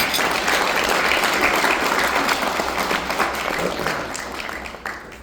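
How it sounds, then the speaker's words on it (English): Sustained applause from an audience at the MESA Awards keynote at Bakersfield College, a loud, dense wash of clapping that gradually thins and fades toward the end. "round of applause for all those things right there."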